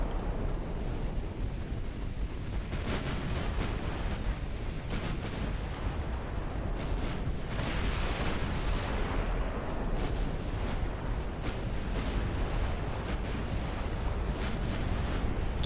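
Heavy naval gunfire from a light cruiser's full battery in the warship game Ultimate Admiral Dreadnoughts, a dense continuous rumble of booming shots and explosions with repeated sharper blasts, loud throughout.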